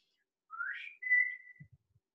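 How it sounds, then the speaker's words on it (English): A single person whistles a short two-part signal call, a rising note sliding into a long steady tone, clear and close in a quiet setting, with a few faint low knocks after it. "this is how we used to whistle."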